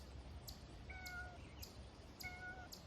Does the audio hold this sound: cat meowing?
yes